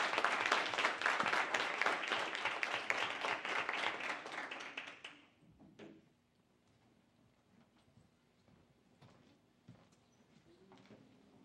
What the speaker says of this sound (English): So let's all give them a round of applause for their service.